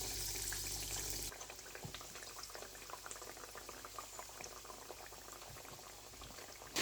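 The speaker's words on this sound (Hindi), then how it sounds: "अब मैं इन पैटीज को ऑयल में डालूंगी" Chicken burger patties go into hot oil over medium heat for shallow frying. A brief loud burst gives way to a quiet, steady bubbling crackle with no voices.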